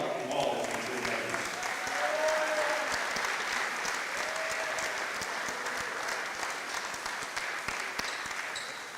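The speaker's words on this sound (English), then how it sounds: "One more round of applause." Sustained crowd applause fills a basketball gym during a ceremony for graduating Hornets players, steady and dense throughout, with faint voices underneath.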